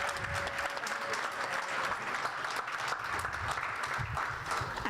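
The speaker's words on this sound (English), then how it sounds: "Let's give a round of applause for Dr." After a 2019 Martin Luther King Jr. lecture, the audience gives a round of applause. The clapping is continuous and moderately distant, with some crowd murmur beneath it.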